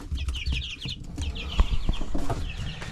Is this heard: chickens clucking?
yes